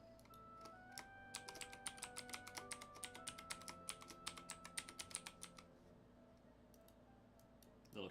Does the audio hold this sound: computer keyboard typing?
yes